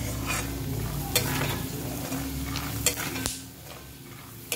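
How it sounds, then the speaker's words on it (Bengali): Soft frying and sizzling of peanuts in hot oil with occasional stirring scrapes and a few clinks of a utensil against the pan. "বাদ বাকিটা গরম তেলের মধ্যে যা হয় হয়ে যাবে।"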